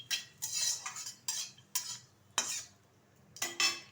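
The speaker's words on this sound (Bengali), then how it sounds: "ভালোভাবে ভেজে নিচ্ছি।" A metal spoon stirs and scrapes through whole cumin seeds frying in oil in a pan. Short bursts of scraping and sizzle come in irregular strokes with brief quiet gaps, close by and fairly soft, with no voices.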